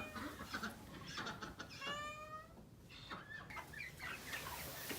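Chickens in a cold barn, with faint clucks and a few higher squawking calls coming and going amid quiet background rustle, heard from close by.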